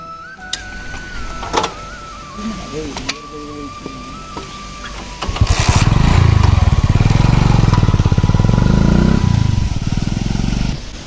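Motorbike starting up and pulling away, its engine rising into a loud, rough, close rattle that sustains for several seconds after some clicks and mechanical noises.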